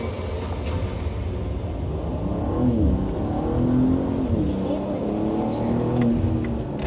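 A 2025 BMW M5 pulls away from a race start line, its engine note climbing steadily through the gears in a smooth, loud surge heard from inside the cabin.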